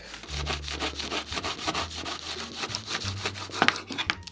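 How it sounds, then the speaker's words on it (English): Rhythmic back-and-forth rasping of a knife sawing through firm chocolate, steady strokes close up with no talking. "the best action I would say is a sawing action instead of, as opposed to a cutting action"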